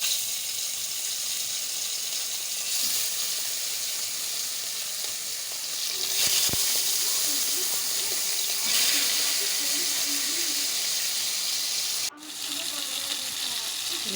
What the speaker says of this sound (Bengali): মাছ ভাজা হয়ে গিয়েছে, এখন ভালো করে উঠিয়ে নেব মাছগুলো সব।